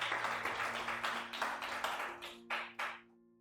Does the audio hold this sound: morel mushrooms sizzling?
no